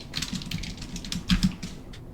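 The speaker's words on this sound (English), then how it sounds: "I'm also typing this down so I don't forget" Computer keyboard typing in a short run of quick, uneven keystrokes, close and moderately loud, with no voice.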